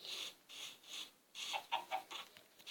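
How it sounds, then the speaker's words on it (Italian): Chickens cluck faintly in a village in a video game, a series of soft, short, repeated clucks with no talk. "Qui ci sono delle galline."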